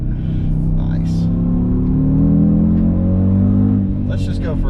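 An Audi RS Q3 compact SUV drives on an open road, its engine droning steadily and rising under acceleration, loud and close from inside the cabin.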